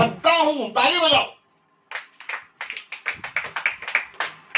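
A church congregation claps in short, uneven bursts of many hands. The clapping is fairly close and follows a preacher's brief spoken line.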